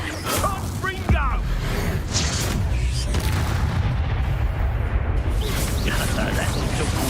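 Blasting-spell explosions in the Hogwarts Legacy video game: a heavy boom bursts out early, followed by continuous rumbling battle noise and further thuds, with a voice talking over the din.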